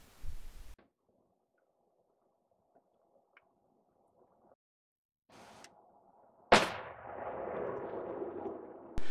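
A single sharp, loud rifle gunshot cracks out and is followed by a long echoing decay. Earlier there is a short burst of noise and then near silence.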